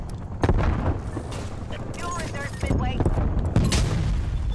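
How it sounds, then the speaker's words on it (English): An artillery barrage in Black Ops Cold War, with a string of heavy booms and blasts rolling through in several loud bursts while someone talks over them. "A little artillery. That's good for this map."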